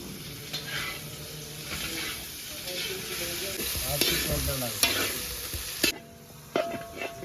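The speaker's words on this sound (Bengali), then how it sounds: "ওটা মাংস ভাজা হচ্ছে" Meat fries in a pan with a continuous sizzle, broken by stirring scrapes and a few clanks of utensil on metal. Voices are heard faintly at times in a casual home setting.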